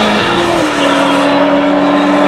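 Closed-wheel race cars race at Mission Raceway, their engines a loud, close, sustained roar holding a strained pitch that dips slightly and then steadies.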